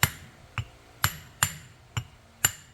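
A hammer strikes a soft copper drift during a Lock Right locker install in a Toyota 8.4-inch differential. Six sharp metallic blows land close by at uneven intervals of about half a second, each ringing briefly.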